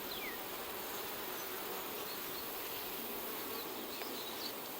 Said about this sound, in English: Lots of bees on top.